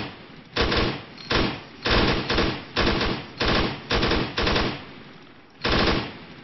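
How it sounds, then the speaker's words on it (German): Bursts of automatic gunfire in ARMA 3 combat at a base, about nine loud rapid volleys with short gaps between them, close and with no talk over them. "Achtung, Schüsse! Schüsse direkt aus der Basis voraus!"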